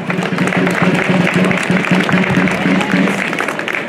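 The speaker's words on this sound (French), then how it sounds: "on peut lui envoyer aussi nos applaudissements à Christian" Applause from an outdoor audience at a season-closing weekend event at the Isola 2000 ski resort, steady dense clapping filling the whole stretch at even loudness, with a faint voice or two mixed in.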